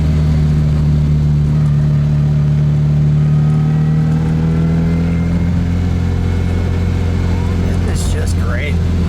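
A 1960 Fiat 1500S OSCA coupe's engine drones loud and close from inside the cabin while driving, a steady low hum with gently rising pitch as it pulls, and a passing higher whine near the end.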